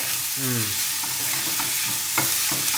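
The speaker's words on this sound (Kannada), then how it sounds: "ಎಣ್ಣೆಲಿ ನೀಟಾಗಿ ಈರುಳ್ಳಿನ ಫ್ರೈ ಮಾಡ್ಕೊಳ್ಳಿ" Onions frying in oil in a home kitchen pan, a steady broadband sizzle throughout with a brief scrape of stirring and a few soft clinks near the end.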